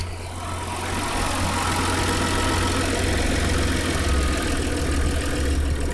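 A 1996 Nissan Maxima engine idling steadily with a low, constant hum and faint ticking, close and continuous, stepping up slightly in level about a second in as the idle is adjusted, with no talking.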